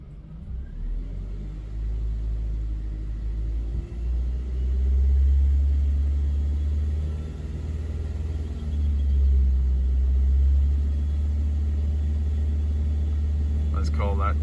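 Car engine idling and then raised to a higher RPM of around 2200, a loud, steady low rumble that swells and holds, with a voice speaking over it.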